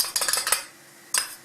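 A spoon clinks repeatedly against a pot while stirring potato starch into milk, a quick run of bright metallic taps followed by a pause and one more scrape, close and fairly loud with no talk.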